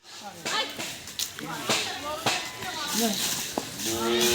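A cow tied to a tree for a free vaccination lets out several drawn-out moos, loud and near, between the shouts and calls of people handling it.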